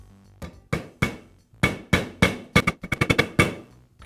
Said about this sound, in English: I'll use a socket to tap the bearing into place.